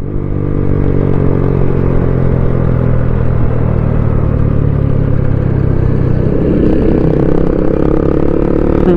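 A small motorcycle engine drones loud and close, revving steadily with a rough, buzzing rattle throughout and no talking.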